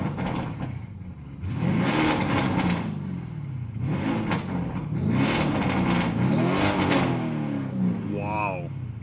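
Lamborghini Urus with a Novitec exhaust in Corsa mode, revved several times in rising and falling throttle sweeps with crackles, heard from inside the car while people talk over it.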